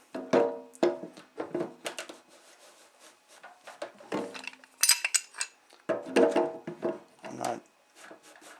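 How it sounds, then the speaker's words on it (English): A wrench works on a metal kitchen sink strainer, giving a run of short irregular metallic clicks, scrapes and knocks up close, separated by brief quiet gaps. "when I put the wrench on this strainer, it has a tendency of moving just a little bit more"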